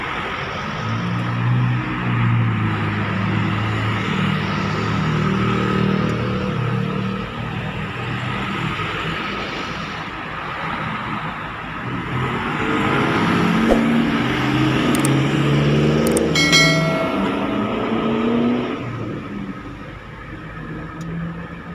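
A tow truck's cable winch slowly drags a car up onto the truck bed, a steady low mechanical rumble and engine drone that swells in the middle, with no voices.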